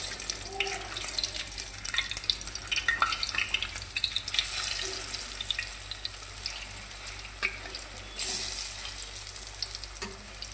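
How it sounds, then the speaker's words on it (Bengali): Stuffed teasel gourd (kakrol) frying in oil in a pan, a steady soft sizzle and crackle throughout with faint clinks of handling, no talk. "খুব সুন্দর ফ্রাই হচ্ছে দেখো।"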